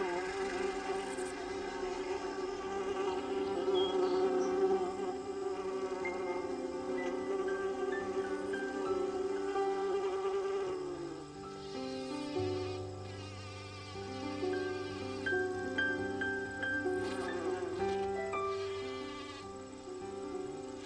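Honeybee workers buzzing around their hive, a steady, close droning hum with layered tones that holds throughout, shifting slightly in pitch partway through, with no voices.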